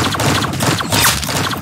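Rapid bursts of laser weapon fire from a video game rattle continuously at close range, with a brighter zap standing out in the middle.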